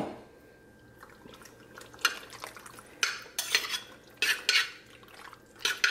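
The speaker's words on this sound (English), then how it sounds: "And then I'm gonna give it a good stir." Pizza sauce from a jar stirred into a dish for a kid-friendly pizza bake, giving several close clinks and scrapes of a utensil against the dish with a few wet, sloshy bursts and no talking.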